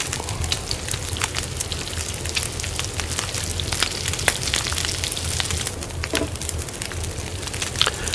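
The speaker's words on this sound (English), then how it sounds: "We are going to cook up all this rabbit." Rabbit meat cooks over a fire in the survival video game The Long Dark, giving a steady crackling sizzle with scattered sharp pops, even and unbroken.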